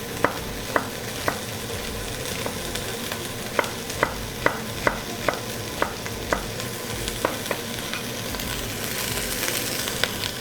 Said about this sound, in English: Get those aromatics going. Let's see what we got in here. A little more onion. Add that in.